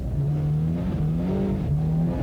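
Opel Astra 16-valve rally car on a snowy Norwegian rally stage, engine note rising and falling through repeated revs and gear changes, steady and fairly close with no talk.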